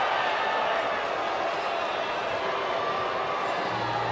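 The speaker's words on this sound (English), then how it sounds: "Crowd didn't like it at all." Stadium crowd at a baseball game reacting with displeasure to Mike Trout's strikeout call, a dense, steady wall of murmuring and booing that holds for several seconds without letup.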